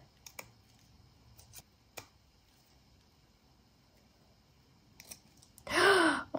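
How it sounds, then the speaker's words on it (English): Scissors snip a leaf off a plant in a few short, sharp clicks spread over several seconds, followed by a brief vocal exclamation at the end. "We could cut that leaf off here on the bottom."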